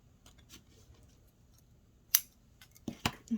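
Scissors snip embroidery thread at close range: one sharp cut, then a quick pair of snips after soft handling sounds, with no voices.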